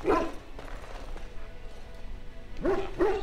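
A dog companion in the Dragon Age Origins video game gives two short barks, one at the start and one near the end, with quiet game ambience between.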